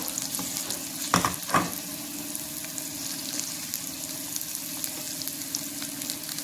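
Onion and tomato frying in oil for a crab masala, a soft, even sizzle running throughout with a couple of brief scraping clatters near the start.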